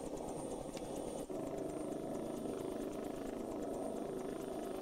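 Military helicopters in the video game Arma, a German-flagged one among them, roar with a loud, steady rotor and engine drone that fills the whole stretch with no pauses.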